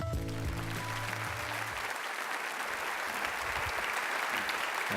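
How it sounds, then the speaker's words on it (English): Audience applause welcoming a theology professor to the stage at a church or seminary gathering, a dense sustained clapping wash that starts over a fading bit of music and continues steadily throughout. "give a great round of applause and a welcome to my theological professor"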